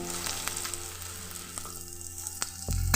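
Onion, panch phoron and turmeric fry in hot oil for a rustic banana-flower dish, a steady close sizzle with a few sharp crackles and a heavier burst of sizzling near the end, with no talk.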